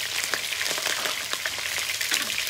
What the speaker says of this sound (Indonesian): Udang memang dia akan meletup.